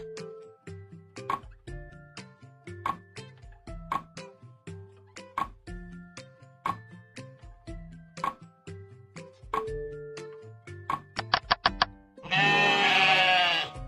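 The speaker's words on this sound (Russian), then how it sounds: "Овца." Sheep bleats from a children's toy or learning clip recur as short repeated calls over steady ticking rhythmic music, then a loud burst of noisy bleating closes it near the end, close and clear.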